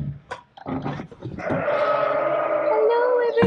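Sheep bleat loudly and close inside a barn or milking area, short calls at first and then one long wavering bleat, with a voice briefly mixed in.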